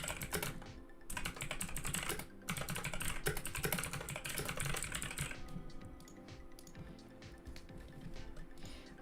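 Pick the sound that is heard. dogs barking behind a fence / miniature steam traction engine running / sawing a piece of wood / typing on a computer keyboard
typing on a computer keyboard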